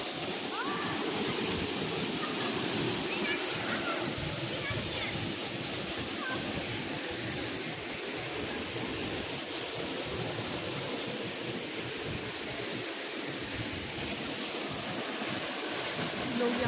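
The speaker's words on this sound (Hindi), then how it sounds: "ऊपर से इतनी तेज़ प्रेशर से पानी गिर रहा है" A waterfall pours down with strong pressure, a dense and steady roar of crashing water that fills the scene without a break from start to finish.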